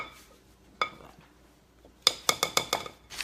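A whisk clinking against a bowl while stirring melted coconut oil, a single tap followed by a quick series of sharp, close metallic clinks.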